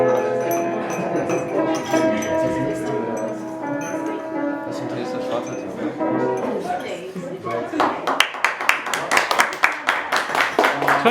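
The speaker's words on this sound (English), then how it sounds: "We're clapping you." An audience in Ypres breaks into clapping, a crisp run of many hands in the last few seconds, after a stretch of voices and tonal ringing.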